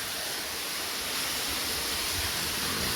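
Water seeps and trickles into a deep village well from all around its sides, making a soft, steady rushing wash that swells slightly toward the end.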